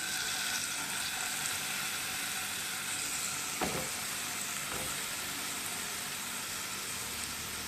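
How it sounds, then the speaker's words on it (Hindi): Marinated tandoori chicken with yogurt, lemon and spices sizzles steadily on a preheated pan, a constant close hiss with a couple of brief scraping movements partway through, no voices. "अब मैं इस चिकन को इस प्रीहीटेड पैन के ऊपर डालूंगी"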